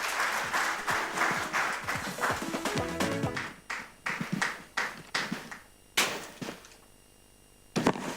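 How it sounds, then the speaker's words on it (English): A gala dinner audience at an awards ceremony bursts into loud, dense applause that thins into scattered individual claps, then fades almost to silence before a final few claps. "let's give them a round of applause"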